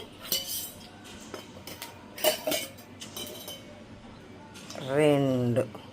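A metal ladle clinks against a pot on the stove as two ladlefuls of oil go in for upma, a few light taps near the start and middle, then a louder sizzle of oil near the end under a voice.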